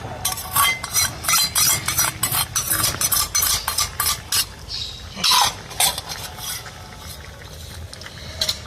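Drumstick chorchori with poppy and melon seed paste is stirred in a pan, a quick run of repeated scraping and clattering strokes over a soft sizzle, easing off toward the end.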